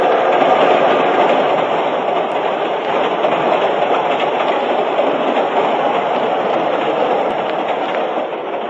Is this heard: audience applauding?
no